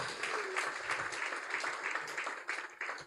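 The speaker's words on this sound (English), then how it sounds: "Let's put our hands together for Port Harcourt City." Audience applause at a Make In Nigeria event, a dense, steady clapping from a crowd that holds at an even level for a few seconds, fairly loud and close.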